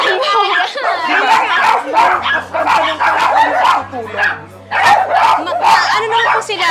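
Many dogs bark and yip together indoors in a house shared with a large pack, including newborn puppies, the barking loud and continuous under overlapping conversation.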